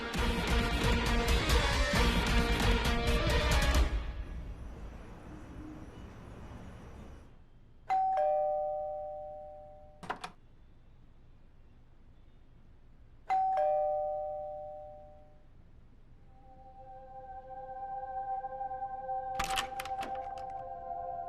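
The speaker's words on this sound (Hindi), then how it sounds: "तुम इतनी बार घंटी बजा रहे हो।" A doorbell in a Hindi TV drama rings again and again: a loud burst of noise first, then several separate electronic two-tone chimes spaced seconds apart, with a low hum in between.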